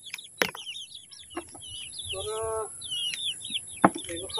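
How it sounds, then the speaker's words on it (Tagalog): Chickens clucking and calling close by while being fed in a yard, short repeated clucks and a drawn-out squawk, with birds chirping around them and brief knocks; a person talks quietly among them. "Grabe yung mga manok natin, no?"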